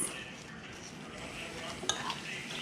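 Kinilaw fish salad ingredients with ginger and white onion being mixed in a bowl, a steady soft scraping and clinking of utensil against the bowl, close and fairly quiet, with one sharper clink near the end.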